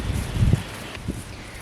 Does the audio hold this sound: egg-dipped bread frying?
no